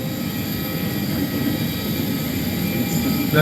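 Steady, loud aircraft engine rumble and whine inside an Airbus A321 after landing, a continuous droning hum with no talking.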